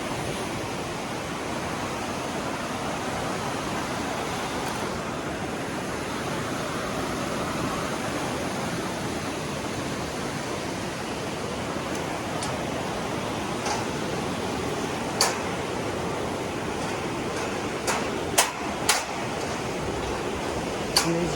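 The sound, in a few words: water flowing underneath a grated bridge, Grand Canyon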